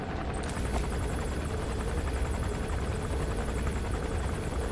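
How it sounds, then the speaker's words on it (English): A helicopter hovers in Metal Gear Solid 5, its steady rotor thrum and turbine whine droning continuously at moderate level with rhythmic blade pulsing and no speech. "Is the chopper seriously just gonna sit there?"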